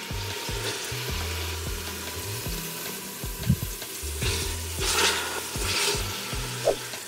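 Beef pieces sear and sizzle steadily in a hot pan, with a constant crackling hiss and a few brief stirring scrapes and knocks over about seven seconds. No one talks.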